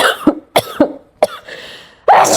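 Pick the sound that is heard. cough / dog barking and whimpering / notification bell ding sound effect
cough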